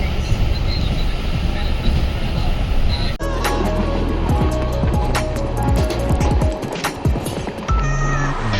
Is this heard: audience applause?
no